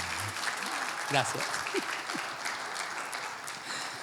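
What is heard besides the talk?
applause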